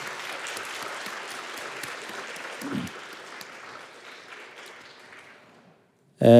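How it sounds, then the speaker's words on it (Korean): Church congregation applauding a choir and orchestra after a hymn during a Sunday service, a steady wash of clapping that thins and fades out over several seconds. "우리 감사와 격려의 박수 한번 드리겠습니다"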